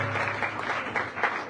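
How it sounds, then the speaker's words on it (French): Steady crowd applause at a church service fills the whole moment, a dense wash of clapping hands. "Applaudissez fortement pour la gloire du Seigneur"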